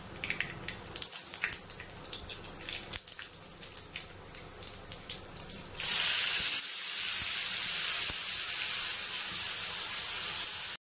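Spices and bay leaves sizzling in hot oil for a potato and pointed gourd curry, a steady hissing spray that swells louder partway through, with scattered crackles and pops.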